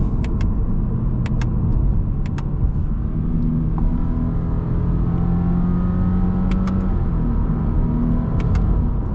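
A 2024 Subaru Impreza RS with a CVT and about 180 horsepower accelerates with a steady, droning engine rumble that slowly rises in pitch. A few faint clicks sound near the start and end.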